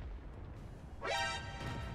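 An artillery shot in World of Tanks lands as a single sharp boom with a rising whoosh and a rumbling tail, rising out of steady battle ambience.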